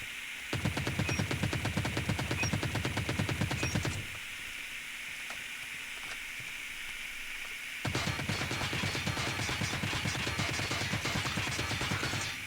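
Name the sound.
ASM10 rifle hip fire gunshots in a video game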